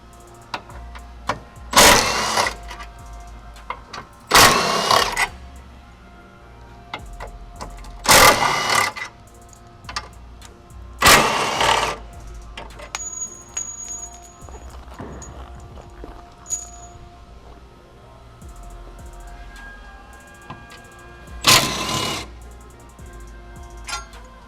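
Impact wrench driving 12 mm bolts while fitting a rear cross brace on a Nissan 370Z, six loud rattling bursts of a second or so each, spaced by quieter stretches with faint background hum.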